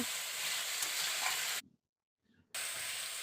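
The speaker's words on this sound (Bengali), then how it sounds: "এবার আমি দিয়ে দিচ্ছি ভেজে রাখা পটলগুলো ভালো করে এই মশলার সঙ্গে পটলগুলোকে কষিয়ে নেব" Fried pointed gourd (potol) being stir-fried in oily spice masala, a steady crackling sizzle that cuts out abruptly for about a second before resuming just as strongly.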